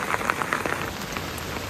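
Steady rain patters on a surface nearby in a small garden with flowers, with scattered individual drops tapping through a constant hiss.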